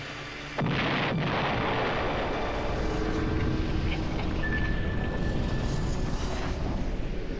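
A torpedo strikes the starboard aft of the troopship Leopoldville and explodes, a sudden loud blast that gives way to a sustained heavy roar and rumble lasting several seconds.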